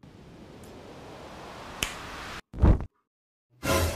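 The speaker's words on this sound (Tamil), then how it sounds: "சொடக்கு போட்டா ஃபயர் வருமா?" A single crisp finger snap cracks out close and dry in a comedy superpower short, preceded by a soft hiss and followed by two brief, dense bursts of louder sound separated by silence.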